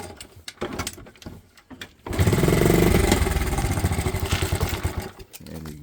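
A vintage Honda CT70 trail bike with timing slightly off, its small engine kicked over and catching, then running with a loud rapid putter up close, fading to idle bursts near the end.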